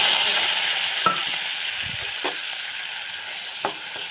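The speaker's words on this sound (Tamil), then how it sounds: "பட்டை கிராம்பு ஏலக்காய் நல்லா பொரிஞ்சிட்டு வெங்காயத்தை" Cinnamon, cloves, cardamom and onions frying in hot oil for a chickpea masala gravy give a steady close sizzle, broken by a few soft clicks of a spoon against the pan; no talking.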